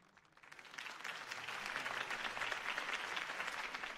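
Crowd applause at a campaign rally in the Batman Telltale Series video game, swelling from quiet in the first half-second into a sustained, dense roar of clapping that holds to the end.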